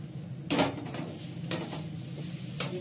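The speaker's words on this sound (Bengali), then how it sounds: "আমি একদম অল্প তেলে চাউমিন করি" Chowmein stir-fried in a small amount of oil, a soft steady sizzle with a few sharp scraping stirs of the spatula against the pan, close and alone.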